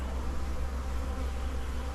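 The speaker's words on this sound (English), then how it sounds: "from here I can see some bees bringing in pollen" Bees fly around the entrance of a beehive as foragers bring in pollen. Their close, continuous low buzzing hums steadily with no talk.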